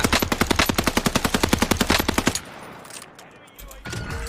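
A Cooper Carbine fires a long, rapid automatic burst in Warzone Pacific. About twenty evenly spaced loud, close shots ring out over two seconds, followed by a quieter stretch of in-game ambience and movement.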